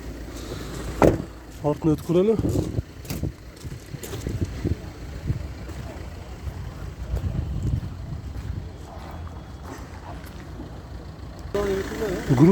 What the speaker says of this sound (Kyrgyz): Азыр машина оталып турат.